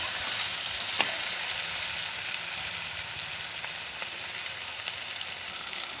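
Garlic frying in a pan, a steady close sizzle and crackle with a few light clicks of a spatula, and no talking.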